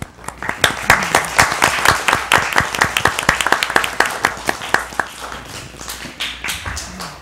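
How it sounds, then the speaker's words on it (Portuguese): A small group of students from the 1st to 5th grades of Afonso Pena school clap together, producing a steady run of sharp, distinct claps that stay fairly loud and close for several seconds. "uma salva de palmas para vocês aí"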